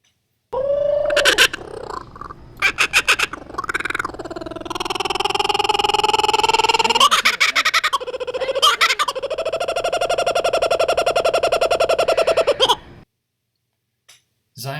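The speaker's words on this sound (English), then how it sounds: "The audible laughing noise has been used in many movies with jungle scenes," A kookaburra gives its laughing call: loud, close, rapid cackling bursts that rise into long, harmonically rich trilling phrases, then stop abruptly.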